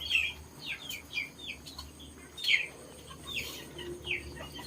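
Chickens and ducks at a rural farm in Laos after days of heavy rain, several short bird calls and clucks rising every second or so at moderate distance over a quiet outdoor background.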